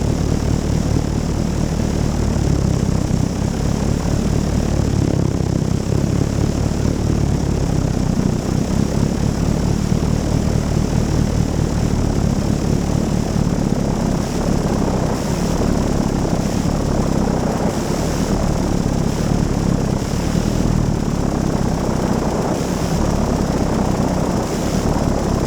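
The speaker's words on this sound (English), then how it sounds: "This airplane has a 160 horsepower Gnome rotary engine" Fokker D8 airplane with a 160-horsepower Gnome rotary engine taking off from turf at Old Rhinebeck Aerodrome, a loud, close, steady propeller-engine drone that holds for the whole stretch, with no voices.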